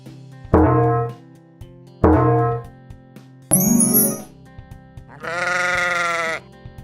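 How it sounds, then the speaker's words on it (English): Sheep bleating in a farm animal sound game for toddlers, two loud separate bleats, then a bell-like ding and a longer drawn-out bleat, clear and close with no talk. "Sheep."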